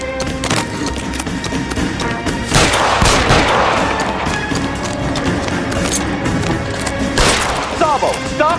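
Gunfire crackles in the crime video game L.A. Noire, with a sharp burst early on, a heavier volley of shots around the middle and another near the end, loud over a busy game soundscape with voices.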